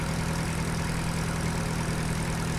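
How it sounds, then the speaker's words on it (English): Steady low idle of a very old open-seat tractor engine in Farming Simulator 2013, a continuous even rumble with a faint rhythmic knock, close and unbroken, no voices. "It's very, very, very old tractor here."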